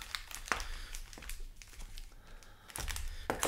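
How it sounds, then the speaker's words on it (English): Close, crisp crinkling and papery riffles of Time Spiral Remastered trading card packs being shuffled by hand, coming in short irregular bursts with soft handling noise between them. "We're going to give these a little shuffle here"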